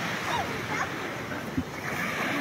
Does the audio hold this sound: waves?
yes